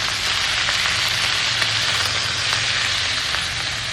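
Green beans fry in a pan with salt and turmeric over a lowered gas flame, giving a steady, close sizzle of hot oil that carries on unbroken with no talking.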